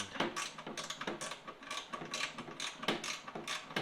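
Ratcheting and mechanical clicks from a bolt being removed from a bracket on a Troy-Bilt Storm 2840 snow blower, a steady run of close, crisp ratchet strokes with a few pauses and no talk.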